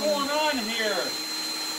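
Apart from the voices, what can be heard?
vacuum cleaner running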